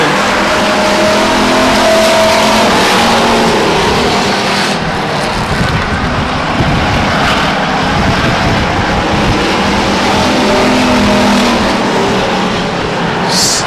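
Race cars at Stockton 99 Speedway accelerate out of a turn, and their engines make a loud, continuous roar throughout with no voices.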